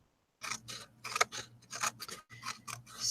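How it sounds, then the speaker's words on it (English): Scissors snipping through embossed waffle paper, a quick series of close, crisp cuts in irregular bursts with short pauses between. "I'm just taking my scissors and cutting this embossed waffle paper"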